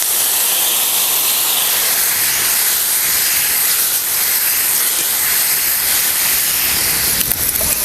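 Buttermilk hitting a hot tempering of green chillies, cumin and whole garlic for dahi mirchi, a loud, sustained steamy hiss that roars on without pause, close to the pan.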